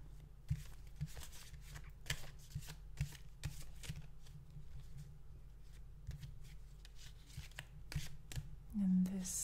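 Tarot cards shuffled and laid down in a run of soft, quick riffles and flicks, close and fairly quiet, with a steady low hum beneath and a brief louder handling sound near the end.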